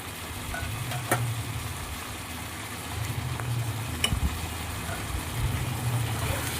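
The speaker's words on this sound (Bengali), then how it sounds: "এখন এর মধ্যে আদা রসুন আর লঙ্কা বাটাটা দিয়ে দিলাম" Ginger, garlic and chili paste sizzling in a pan, a steady close fizz over a low rumble, broken by a few sharp utensil taps against the pan.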